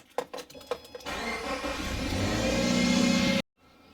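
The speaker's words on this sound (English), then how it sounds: "we're all said and done, and the car is running." A car engine cranks after a starter replacement, catches and settles into a steady running idle that grows slightly louder, then cuts off abruptly.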